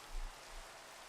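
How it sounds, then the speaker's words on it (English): Steady rain falling in a Minecraft modpack game, a soft, even hiss with a slight low rumble, heard alone at low volume throughout. "Really wish it'd stop raining."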